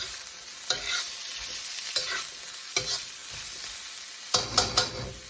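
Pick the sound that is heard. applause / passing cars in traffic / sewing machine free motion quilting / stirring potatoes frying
stirring potatoes frying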